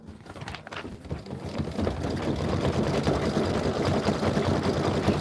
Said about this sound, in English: And this is 4 minutes of stitching.